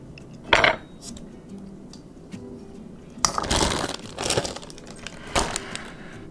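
Pumpkin pie filling being mixed in a bowl, with a few sharp clinks of a utensil against the dish and scraping bursts, moderately close, separated by quieter pauses.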